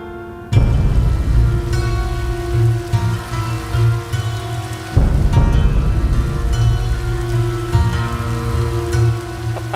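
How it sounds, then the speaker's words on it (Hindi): Heavy rain pours down outside in a steady, dense hiss that continues throughout, with a sustained tonal score layered over it. "बाहर तो बहुत तेज बारिश हो रही है।"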